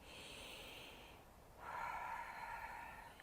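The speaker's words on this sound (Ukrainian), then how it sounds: "І ми робимо для початку глибокий вдих і видих через рот, і ще кілька таких дихів." Slow deep breathing in and out through the mouth during an outdoor nature meditation, one long airy breath followed by a pause and a second breath, faint and close with no talking.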